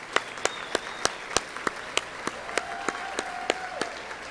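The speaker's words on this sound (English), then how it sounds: "Parents, please join me in another round of applause for our award winners." Parents at a school academic awards ceremony clap for the award winners: sparse, evenly spaced hand claps ring out fairly faintly against a quiet room, with a steady faint tone in the background.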